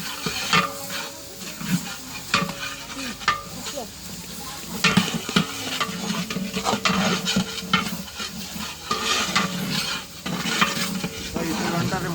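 Onions fry in a large pot for a chicken curry and are stirred throughout, with a steady sizzle under repeated scraping and clanking of the spoon against the metal.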